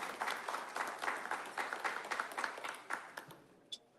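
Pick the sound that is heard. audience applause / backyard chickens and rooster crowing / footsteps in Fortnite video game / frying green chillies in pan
audience applause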